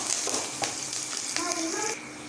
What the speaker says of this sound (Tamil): கருவேப்பிலை எல்லாத்தையும் சேர்த்து மிக்ஸ் பண்ணி விட்டுலாம் எல்லாம் தாளித்து ரெடியாகட்டும்